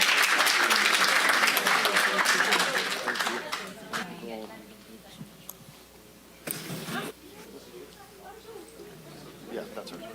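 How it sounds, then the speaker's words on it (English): An audience gives another round of applause for Susan at a ceremony, a loud burst of many hands that dies away after a few seconds into quieter room sounds and murmuring. "Another round of applause for Susan."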